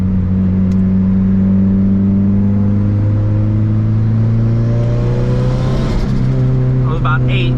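A turbocharged race car with a built motor drones loudly from inside the cabin as it revs and climbs steadily in pitch, with a rising whine of boost building.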